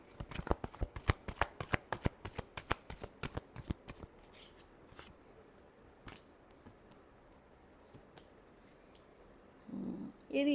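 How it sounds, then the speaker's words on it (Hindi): A deck of tarot cards is shuffled in a fast run of sharp, close riffling flicks for about four seconds, then stops. A few sparse taps follow, and a short voice comes in at the end. "Last shuffle."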